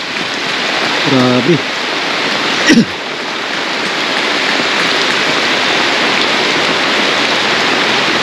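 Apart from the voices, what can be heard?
rain starting, with wind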